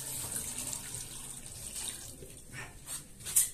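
One litre of water pours into a pot of sweet potato for picarones, a steady splashing, gurgling stream close by that swells and bubbles louder toward the end.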